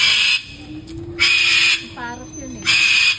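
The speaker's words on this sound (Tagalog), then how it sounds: "Ang ingay ng parot." A parrot squawks at the Estancia De Lorenzo resort in harsh, piercing bursts, repeated three times, with a shorter tonal call in between and people talking faintly nearby.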